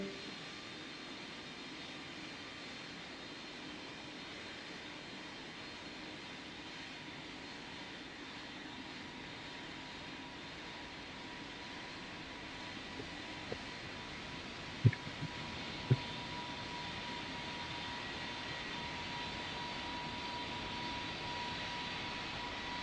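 An airliner landing in the Roblox game Pilot Training Flight Simulator, heard as a faint, even jet-engine drone with a couple of brief clicks near the middle, and no voices.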